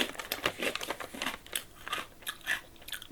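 Several close, crisp crunches come from someone biting and chewing freeze-dried peach pieces in a rapid irregular series, with no talking.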